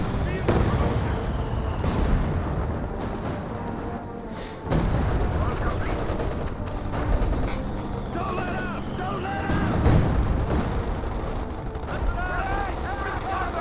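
A video game battle with Calliope rocket artillery and a Jagdpanzer firing high explosive rounds: repeated booms and bursts of gunfire rumble through the scene, while a commentator talks over the top.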